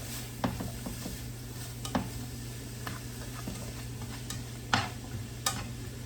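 Minced garlic sizzles softly in a pan for a chicken stir fry, a faint hiss broken by occasional light clicks and taps of utensils, with no talking.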